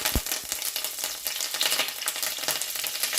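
Curry leaves hit hot tempering oil with dried red chili, urad dal and seeds, giving a close, bright crackling sizzle with a few sharp pops, stirred briefly and steady throughout.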